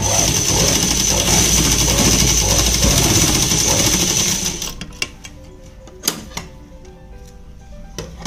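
A sewing machine runs a continuous stitching burst through palazzo fabric, a loud steady whirring buzz, then stops about halfway, leaving a few sharp mechanical clicks and knocks.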